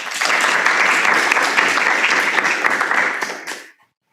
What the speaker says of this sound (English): Let's give a round of applause to these three special guests.